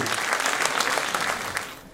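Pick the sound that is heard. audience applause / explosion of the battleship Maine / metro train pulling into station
audience applause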